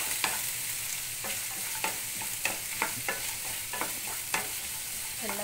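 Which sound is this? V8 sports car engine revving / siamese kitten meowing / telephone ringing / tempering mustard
tempering mustard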